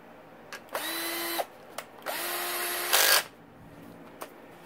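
A power tool whirs in short bursts while tightening bolts on a Yamaha YFZ450 ATV motor during a rebuild, with three close spurts separated by brief pauses and light clicks.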